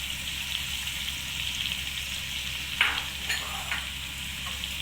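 Tomatoes fry in a pan with a steady, soft sizzle, broken by a few brief scraping stirs of a spoon near the end.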